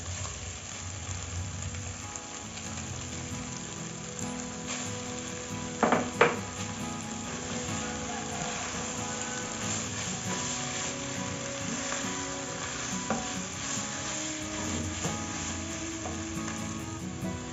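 Crushed white tofu frying in a hot pan with a steady sizzle, and a couple of sharp scrapes of stirring against the pan partway through. No voices are heard.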